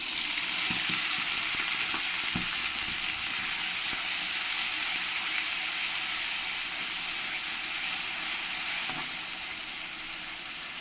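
Onion paste with mustard sizzles steadily in hot oil that already holds bay leaves, dried red chillies and whole spices, cooking for a curd chicken curry. The frying hiss is loud and continuous, with a few soft stirring knocks.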